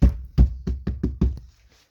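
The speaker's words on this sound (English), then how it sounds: "If you could tell by the way I was knocking on it, I wasn't really punching it that hard." Six firm, hollow knocks on a Leyland Atlantean bus side seat, struck at an uneven, fairly quick pace up close, then silence.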